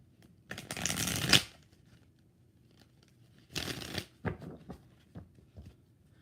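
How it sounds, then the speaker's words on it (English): A tarot deck is riffled in two bursts, each lasting about a second, close and crisp, followed by a few light taps and flicks of cards between them. "3 shuffles. Three shuffles."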